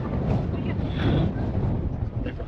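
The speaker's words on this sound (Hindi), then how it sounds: "देखो हवा कितनी चल रही है ज़्यादा" Strong wind roars in cold, snowy Mongolian weather, a loud continuous rumble buffeting the microphone, with a brief gust swelling near the middle.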